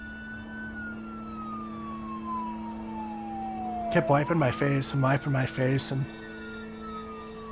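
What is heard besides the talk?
police sirens arriving out front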